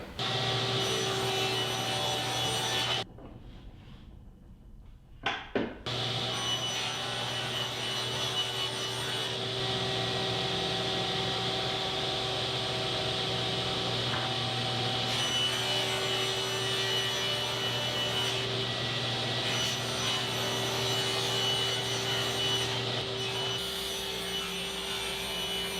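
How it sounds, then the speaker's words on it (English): A saw rips wooden boards lengthwise into strips, a steady droning whine that runs nearly the whole time with a brief drop in the middle, fairly quiet and with no voices. "I'm going to rip these two boards into 4 strips 4 inches wide"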